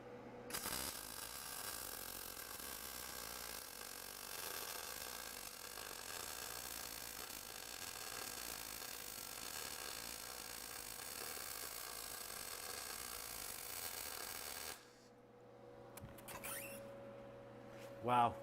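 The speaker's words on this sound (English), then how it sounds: "So we're just going to be getting in, run a little stitch weld here." A stitch weld run with a Powerfist 200A multi-process welder produces a steady, loud crackling arc hiss that holds for about fourteen seconds and then cuts off, followed by quieter handling noises.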